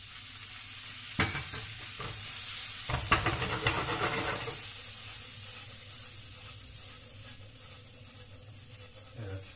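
Chickpeas frying with spices in a hot pan at a Gaziantep street food stall for chickpea dürüm, with loud sizzling and sharp stirring bursts early, then a softer continuous hiss.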